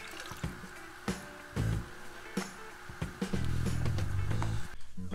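Salt water goes into a 5-gallon nano reef tank, starting with a few splashes and drips, then a sustained pouring gush near the end, close and moderately loud, with no voices.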